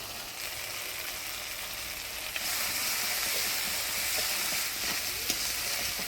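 Cashew paste hits hot mustard-spiced oil with turmeric and salt in a village kitchen pan, a steady hiss of sizzling that jumps louder partway through and holds as a continuous frying crackle, with no talking.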